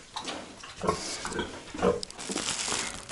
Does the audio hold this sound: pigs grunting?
yes